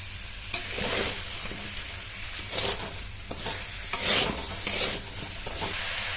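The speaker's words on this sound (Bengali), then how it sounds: "আমটাও ভাজা হয়ে গেল, সেই সঙ্গে হলুদটাও একটু ভাজা ভাজা হয়ে গেল" Mango pieces and turmeric fry and sizzle in oil in a pan for a pickle, with a steady close hiss broken by repeated scraping stirs of a spoon against the pan.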